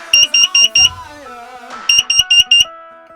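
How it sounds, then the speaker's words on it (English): Carbon monoxide alarm in a motorhome sounding loud, piercing repeated beeps in two bursts of four to five rapid pulses, with a brief gap between the bursts. "alarm, as in our carbon monoxide alarm"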